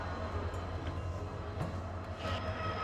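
A passenger train in India stands for boarding on a 354-kilometre journey toward Purulia, with low steady rumble and faint clanks and rattles of the carriage, fairly quiet and with no talk.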